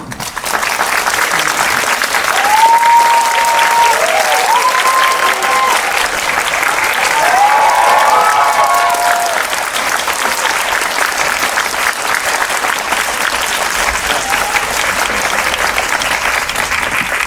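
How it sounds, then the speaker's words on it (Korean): A large film-screening audience gives loud, sustained applause to welcome a director and an actor, a dense unbroken wash of clapping lasting the whole stretch, with faint whoops and cheers rising through it. "그 어느 때보다 큰 박수로 두 분의 게스트를 맞이해 주시기 바랍니다"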